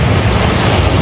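Small, gentle ocean waves wash onto San Fabian beach in Pangasinan, a loud, dense, steady rush of surf mixed with wind buffeting the microphone, with no voices.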